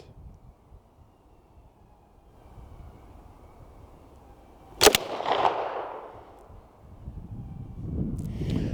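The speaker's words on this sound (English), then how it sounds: "Since the bolt is flying forward, it almost feels like you shoot 2 shots, but it's only one" A single sharp, loud report from a Carl Gustaf m/45 (Swedish K) submachine gun at a shooting range, followed by a rumbling echo that fades. A low outdoor rumble fills the background.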